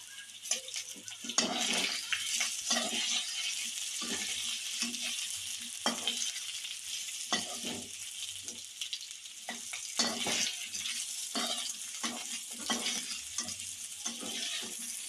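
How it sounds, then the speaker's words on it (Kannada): Chopped raw mango frying in a pan of hot oil with spluttered mustard seeds, stirred steadily, giving a continuous close sizzle broken by repeated scraping and clattering stirs, with no talking. "ಸಣ್ಣದಾಗಿ ಹಚ್ಕೊಂಡಿರೋ ಮಾವಿನಕಾಯಿನ ಬಾಣಲೆಗೆ ಹಾಕೊಳ್ಳಿ"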